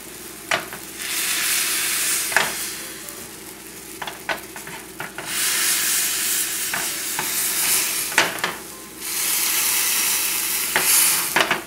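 Button mushrooms frying in a pan, giving off water as they cook, with a steady loud sizzle that swells and eases while a utensil scrapes and taps at intervals as the mushrooms are stirred.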